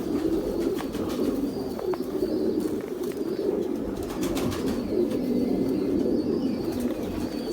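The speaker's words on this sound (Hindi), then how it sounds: "वो भी हमारे बड़े स्पेशल कबूतर हैं, टैडी" Pet pigeons cooing in a loft, a steady low murmuring coo from several birds that runs continuously, with occasional light rustles and wing sounds.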